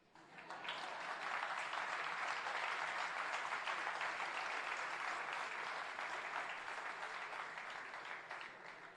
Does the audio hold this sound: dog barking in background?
no